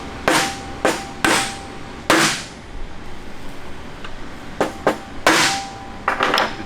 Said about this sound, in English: you find something soft to hammer on